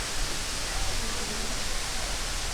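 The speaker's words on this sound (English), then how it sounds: "once you get up here, you can have a beautiful view of this waterfall." A waterfall in Chiang Mai roars as a dense, steady hiss of falling water, close and loud, with no pauses over the short stretch.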